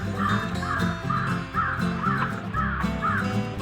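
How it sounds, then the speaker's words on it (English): A crow caws outside a home garage, giving a series of harsh, repeated calls at a fairly steady pace over a low background hum. "Crow."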